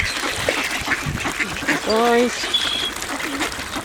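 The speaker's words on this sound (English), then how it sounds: "Very handsome ducks." Pintail ducks quack amid a feeding frenzy of birds, a short burst of harmonic calls standing out near the middle over busy outdoor background noise, with a person speaking briefly.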